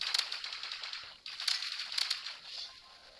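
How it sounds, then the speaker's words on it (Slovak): Rapid automatic gunfire in the video game Roblox, bright crackling bursts repeating in quick clusters with brief gaps, fairly loud and up front with no talk over it. "Že vlastne sa tu strieľa."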